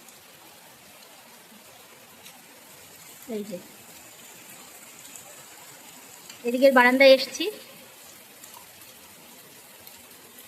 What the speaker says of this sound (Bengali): আর রাস্তায় দেখো কিরকম বৃষ্টি হচ্ছে, দেখে বুঝতেই পারছো যে কিরকম বৃষ্টি হচ্ছে।